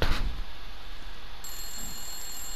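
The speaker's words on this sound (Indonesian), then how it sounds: "Ada suara telepon berdering." A telephone rings in the video game Resident Evil Village, a steady high electronic ringing tone starting midway over a constant hiss and low rumble, with no voices.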